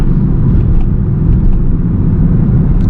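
A Honda Jazz GK 1500 cc car is driven along the road, heard from inside the cabin as a steady, loud, low rumble of engine and road noise with no one talking.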